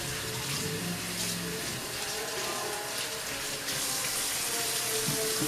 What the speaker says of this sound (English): Okay, I'm going to give my hands a wash.